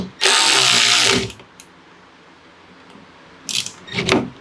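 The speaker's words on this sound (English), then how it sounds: "I'll go ahead and tighten up both sides of these screws here." Screws on a SARD BRZ style rear wing fitted to an ND Miata are run down with a power driver, one loud sustained whir of about a second followed later by two shorter, quieter bursts.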